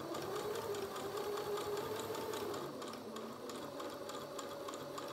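A sewing machine stitches a straight seam in fabric for a beginner's bucket project, its fast, even motor whir running nearly unbroken and close up, with no voices.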